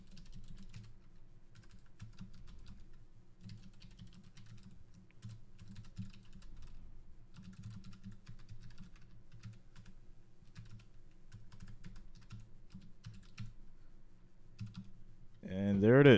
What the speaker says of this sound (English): I was typing fast.